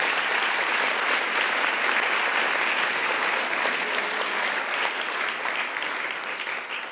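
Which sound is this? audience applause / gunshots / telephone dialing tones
audience applause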